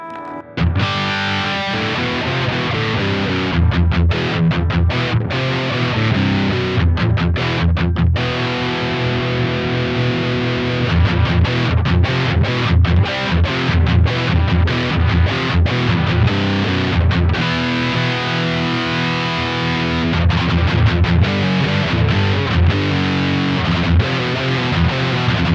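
Electric guitar played through a JHS AT+ distortion pedal, loud saturated chords and riffs with sharp attacks and brief pauses, continuous and close throughout with no talking.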